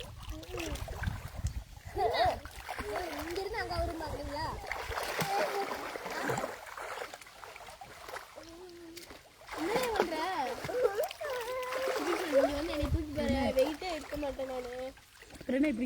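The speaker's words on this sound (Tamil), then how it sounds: "என் பையன் வந்து தண்ணிக்குள்ளே நீச்சல் அடிச்சிட்டு இருக்கான் பாரு." A child swims and splashes in an irrigation canal's water on a hot day, with intermittent watery splashes and trickles close by, mixed under steady nearby talking voices throughout.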